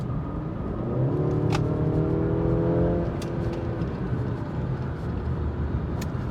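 A 2022 Mercedes C300 4Matic accelerates hard at full throttle, engine drone climbing in pitch for a couple of seconds and then settling under heavy road and wind noise inside the cabin.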